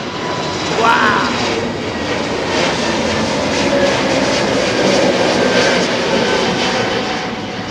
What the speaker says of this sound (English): Straight up like a DHL A330, 300, look at that!